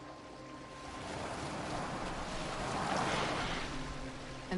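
A boat sails across open water in Assassin's Creed Valhalla, with steady surf and wash rising and falling softly beneath wind, with no voices present.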